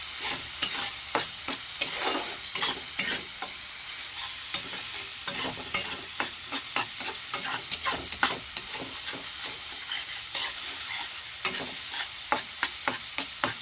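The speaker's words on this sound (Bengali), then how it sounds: "এগুলোকে ভালো করে আমি মশলার সঙ্গে কষিয়ে নেব" Spice paste with tomatoes stirred and fried in a pan for a dried fish curry, a steady sizzle broken by repeated scraping strokes of the spoon at an even, brisk rhythm, close and clear with no voices.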